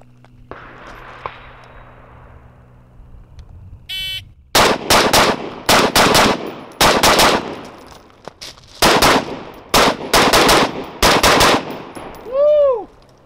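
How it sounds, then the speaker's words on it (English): A FERFRANS AR15 carbine with a Vortex 1-8 scope fires rapid close-range shots in a carbine drill, loud sharp reports in quick clusters with short pauses, after a quiet start; a timer beep sounds at the end. "This is a FERFRANS AR15 with a Vortex 1-8 scope, and it's on 1 power because I'm shooting close."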